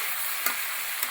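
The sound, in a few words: stirring mixed vegetables in a pan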